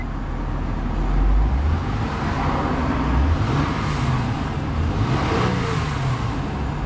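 A 2003 Acura TL 3.2 Base engine runs at a steady, close, low rumble, with a slight swell in pitch partway through and no voices.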